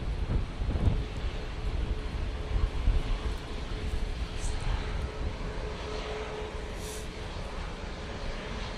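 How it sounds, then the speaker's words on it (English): A Ryanair Boeing 737 MAX 8 airliner moving onto the runway at Manchester Airport puts out a loud, steady broadband jet engine roar with wind rumble throughout, heard from outdoors at a distance and without talk. "Ryanair 737 MAX 8 now coming on to the runway"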